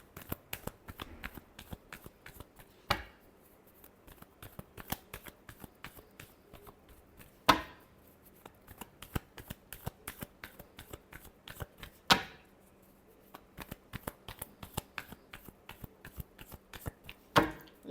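Tarot cards are shuffled by hand in quick, crisp riffling bursts, a dense steady patter of papery flicks, close and fairly quiet, with a few sharper taps as the deck is squared between rounds.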